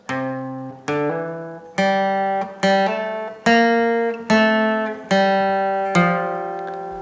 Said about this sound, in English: let me just play you the bass notes without the higher two notes